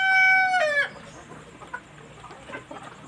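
Six-month-old Black Australorp breeder chickens at a farm in Pakistan: a loud, close rooster crow opens and breaks off, followed by quieter scattered clucks and farmyard rustle.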